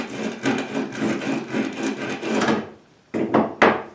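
A chisel's edge is rubbed back and forth on sandpaper from a sharpening kit in a quick, even rhythm of close, dry scraping strokes, then a pause and two final strokes.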